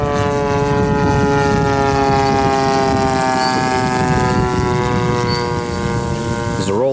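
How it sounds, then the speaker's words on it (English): An electric RC Zeroli Stuka model airplane on a 10S setup flies past at an air show, giving a loud, steady motor and propeller whine with strong even harmonics that holds throughout and wavers briefly at the end. "Zeroli Stuka with an electric 10S setup. Fantastic performance."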